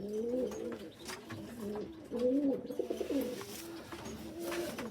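Pigeons coo repeatedly in a loft of young birds, the soft throaty calls close and clear in several rolling phrases, with faint shuffling and rustling behind.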